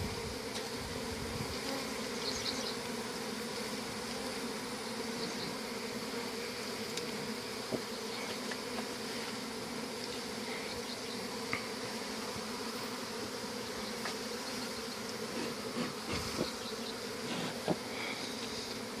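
Bees swarm around a honeycomb, their dense, steady buzzing filling the air continuously at close range, with occasional faint clicks.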